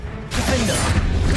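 Confringo fire spell cast in Hogwarts Legacy, a sudden loud whooshing blast with crackling burst that sustains briefly after a quiet start.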